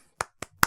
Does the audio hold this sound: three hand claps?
yes